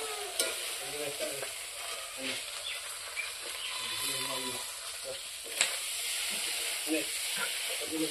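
Country chicken curry stir-fried in a pan, a steady sizzle and frying hiss with scraping stir strokes throughout, while people talk intermittently in the background.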